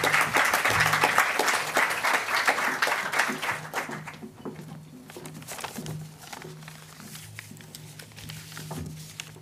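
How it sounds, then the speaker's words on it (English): Applause at a global citizenship education school event, a loud wash of clapping that fades out after about four seconds, leaving quieter room sound with scattered claps and background murmur. "So big round of applause for our two"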